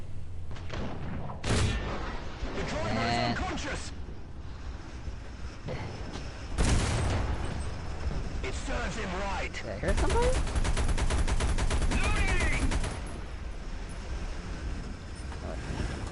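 War Thunder gameplay with repeated bursts of gunfire and machine-gun rattle, sharp loud cracks and rapid strings of shots separated by engine noise, with someone speaking briefly between bursts.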